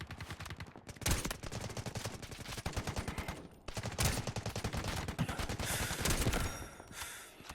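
Rapid, loud gunfire from the mobile shooter Delta Force Mobile crackles in dense bursts with brief pauses, heavy and continuous, with game voice effects in the background.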